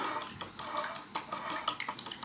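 A spoon stirs a mixture with baking powder and a spoonful of ghee for a roqaq tray, making quiet, quick scrapes and small metallic clinks in an uneven rhythm, heard up close with no talking.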